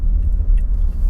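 A car idles as it pulls into a paid parking lot in Thailand, a loud, deep, steady engine rumble close by with no speech over it.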